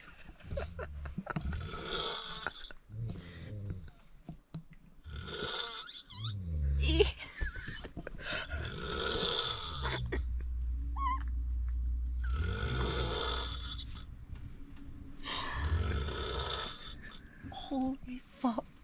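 A man snoring loudly on an overnight sleeper bus in China, with long rasping, gurgling breaths repeating in heavy cycles, mixed with nearby talk and bus noise.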